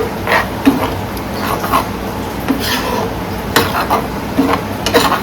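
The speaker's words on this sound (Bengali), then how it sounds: "এবার ভালোভাবে সব নাড়িয়ে দিচ্ছি" A papaya and prawn curry is stirred in a pan after water has been added, giving repeated scraping and soft clinking of the spoon against the metal, close and steady throughout.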